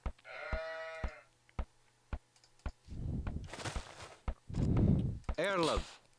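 Sheep bleat in an Age of Empires game, with a harmonic bleat opening the clip and another near the end, separated by regular game clicks and bursts of gritty, rumbling unit sounds.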